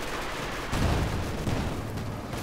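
Battle noise from Company of Heroes 2, with a half-track's .50 cal and an MG42 firing: a dense, steady rattle of gunfire breaks into two heavier bursts over a constant noisy backdrop.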